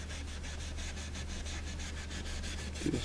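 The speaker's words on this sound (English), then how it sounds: "I'm rubbing with the grain" Rag rubbing along the grain of the wooden cabinet of a Majestic 5A455 radio, a steady close swishing friction that holds at an even level throughout with no pauses.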